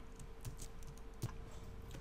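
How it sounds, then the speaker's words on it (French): Faint, sparse key clicks on a computer keyboard as a shortcut is typed: two soft taps about a second apart over a quiet room hum. "Et vous allez taper sur le clavier un raccourci."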